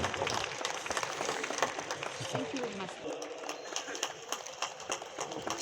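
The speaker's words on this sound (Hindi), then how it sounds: "जोरदार तालियां।" Applause from an audience at a Wildlife Week walkathon flag-off event, a dense, steady wash of many hands clapping under a noisy crowd for several seconds.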